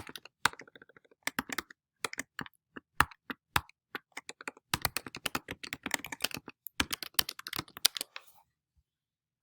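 Rapid bursts of computer keyboard typing, clustered keystrokes in uneven runs with short pauses, close and clear with no voices, ending in a brief silence.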